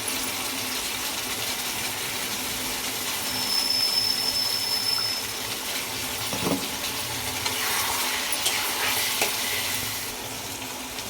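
Mutton cooks in a pan with onion, tomato and a ground paste of ginger, garlic, cumin, coriander and whole garam masala, giving a steady, fairly loud sizzle with occasional stirring scrapes and no talk.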